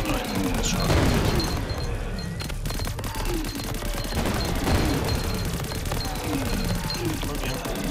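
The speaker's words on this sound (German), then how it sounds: "Wow, Schüsse auch noch nach hinten." Rapid bursts of gunfire in the video game Greedland crackle and boom repeatedly over a dense, noisy background, with a few heavier impacts scattered throughout.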